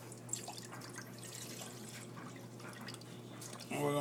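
Juice poured into a gallon pickle jar for homemade kiwi strawberry wine, a steady trickle and drip of liquid running for a few seconds at close range, ending in a louder splashing burst.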